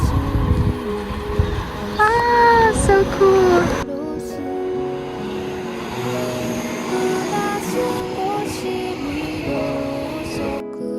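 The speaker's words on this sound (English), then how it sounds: "I think they have like a train or a metro coming by every 5 minutes." A metro train in Japan rolls past a neighborhood street, a steady rumbling and whooshing pass with some squealing tones early on, fairly close and continuous, and a person briefly speaks over it.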